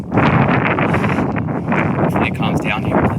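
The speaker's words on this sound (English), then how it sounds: "I'll apologize for the wind. It is a windy day." Wind buffeting a microphone on a hilltop on a windy day, a loud rumbling roar that lasts throughout with a gusty, uneven intensity.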